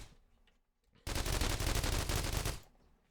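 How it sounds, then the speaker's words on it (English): Massed turret gunfire mowing down a zombie raid in the survival game The Walking Trade, a loud, dense, continuous burst of rapid shots that starts abruptly and cuts off after about a second and a half. "My 50 turrets are doing their job of wiping these raids and making them short."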